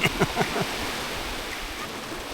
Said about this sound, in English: you have the sound of the waves, really good.